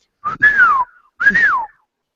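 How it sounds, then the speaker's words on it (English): Two short whistled notes, each rising then gliding downward, sound close and clear with a brief pause between them and nothing else around. "And then all of a sudden you hear a little whistle."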